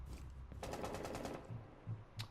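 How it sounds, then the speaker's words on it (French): Automatic gunfire in the Rainbow Six Siege video game, a rapid burst of shots lasting about a second, followed by a few separate thumps and a short sharp crack, fairly faint throughout. "Il y a Mira qui s'est pris quelques balles"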